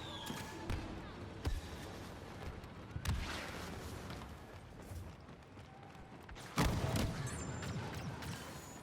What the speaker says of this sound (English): Out of the way, grenade!